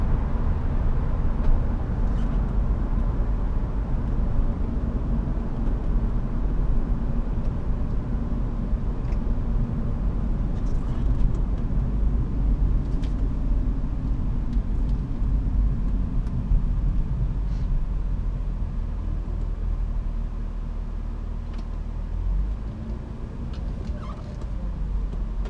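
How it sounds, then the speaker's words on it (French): A 1998 BMW 323i E36 Touring with the M52 engine and automatic gearbox cruises at 3000 rpm and 130 km/h, giving a smooth, steady low drone and road rumble from inside the car, with no talking. "on sent une voiture stable, posée, pas bruyante, puis avec le moteur qui force pas là, à 3000 tours à 130"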